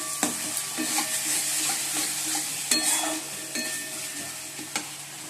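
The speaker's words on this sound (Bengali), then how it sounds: "এই ডিমগুলো ভাজা হয়ে গেছে, এবার মশলাটা কষিয়ে দিচ্ছি।" Spice masala being stir-fried in a pan after eggs were fried, a steady sizzle broken by repeated scrapes and clinks of the spatula against the pan, close and moderately loud with no talking.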